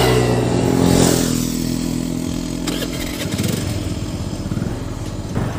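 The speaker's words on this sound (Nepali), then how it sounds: "आज चाहिँ यो स्कुटीको पर्फर्मेन्स टेस्ट र ब्रेक टेस्ट गर्न गइरहेको छु र 0 to 60 कति सेकेन्डमा हान्छ भन्ने अब चेक गर्न गइरहेको छु।" A Honda Dio scooter engine runs close and steady, then revs harder with a pulsing, clattery drone as it accelerates through a 0 to 60 speed test on the road. No one speaks.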